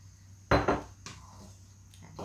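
Pork meatballs drop into a pot of boiling Thai green curry with two close, heavy splashing clunks, followed by softer metallic knocks of a spoon against the pot.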